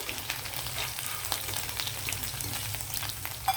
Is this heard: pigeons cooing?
no